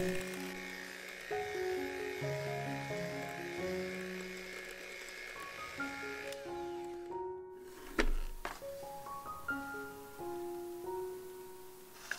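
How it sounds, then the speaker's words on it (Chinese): Electric hand mixer whirring at low speed through cheesecake batter, a steady motor hum with shifting pitch that briefly cuts out and restarts, close and continuous. "改用低速来搅拌到完全融合"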